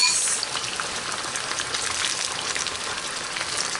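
Garlic sautéing in a pan on low heat while shrimp is being prepared makes a steady, dense hiss of frying, close and even throughout, with no talking.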